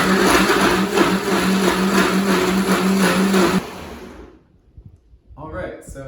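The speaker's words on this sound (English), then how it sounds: "I'm adding 1 cup packed pitted Medjool dates and 2 cups of water to our blender." A blender runs loud and steady, whirring through pitted Medjool dates and water for several seconds, then cuts off, leaving a quiet kitchen with a few soft movements.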